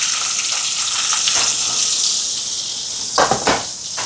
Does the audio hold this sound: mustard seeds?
yes